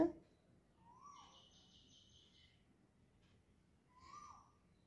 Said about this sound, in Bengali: কি সুন্দর পাখি ডাকছে, শুনতে পাচ্ছ?